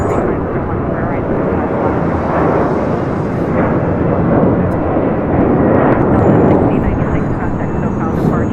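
An airliner taking off at LAX, a loud continuous jet roar that fills the whole stretch, with faint radio chatter from the tower underneath.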